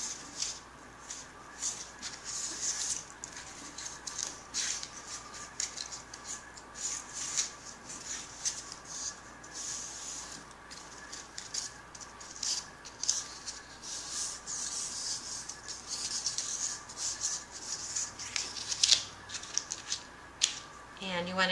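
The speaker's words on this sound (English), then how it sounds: "Just fold along the score lines." Strips of scored cardstock are creased and folded by hand for a faux frame craft, making soft, repeated rubbing and crackling paper sounds across the whole stretch. The level is quiet and close, with some faint talking mixed in.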